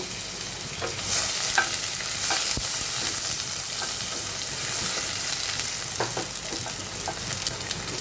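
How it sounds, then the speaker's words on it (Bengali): Chopped onion frying in oil for a hilsa fish curry, giving a steady close sizzle with scraping stirs and light clicks of the utensil throughout, no talking. "প্রথমেই আমি পেঁয়াজ কুচিটা দিয়ে নিচ্ছি তেলের মধ্যে একটু ভেজে দিব"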